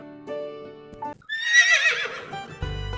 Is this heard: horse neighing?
yes